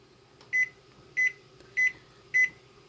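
A kitchen timer set while cooking pinto beans beeps four times in an even rhythm, each a short, sharp, high electronic tone, close and clear over a quiet background hum.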